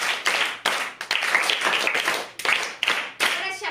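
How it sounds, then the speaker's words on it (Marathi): Students in a classroom activity clap loudly in several sharp bursts, close and forceful, with voices mixed among the claps. "त्यांच्यासाठी 3 टाळ्या जोरात देणार आहोत."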